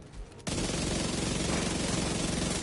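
Sustained automatic SMG gunfire in Rainbow Six Siege, a dense rapid burst starting abruptly after a brief quieter moment and continuing loud and close to the end.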